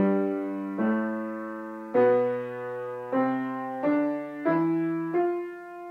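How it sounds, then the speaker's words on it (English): A melodic instrument plays a rising Lydian mode scale of seven clear, evenly spaced notes, each ringing and decaying before the next. "So the first of those would be Lydian, and that sounds like this."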